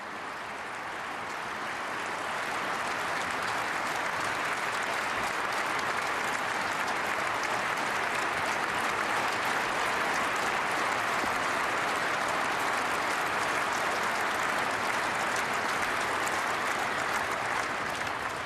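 Sustained applause from an audience in a hall after a speech by Putin, rising over the first seconds and then holding loud and dense without a break.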